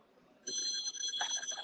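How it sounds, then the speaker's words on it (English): A phone rings indoors with a bright, sustained electronic tone that starts abruptly after a short quiet lead-in, with faint background noise and a brief clatter underneath. "There goes your phone."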